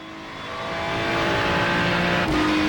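A Ferrari race car in the iRacing sim, its engine droning steadily and climbing gradually in pitch and loudness, then a brief dip around a gear change before resuming, near and continuous.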